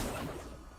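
An Accio summoning spell in the video game Hogwarts Legacy is cast with a short, loud whoosh that swells and then fades within a moment, heard alone without any voice.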